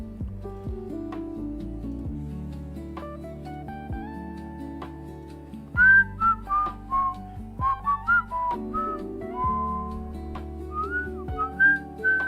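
A person whistles a melody, at first in soft sustained tones, then in brighter, louder bursts of short rising notes, with no talking over it.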